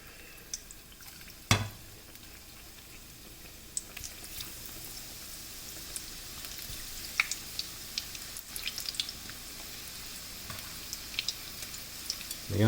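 Battered cauliflower florets fry in oil heated to 330, a steady soft sizzle with scattered pops and crackles, plus a sharp clatter near the start and a louder burst at the end.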